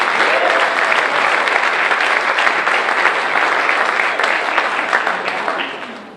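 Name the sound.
audience applause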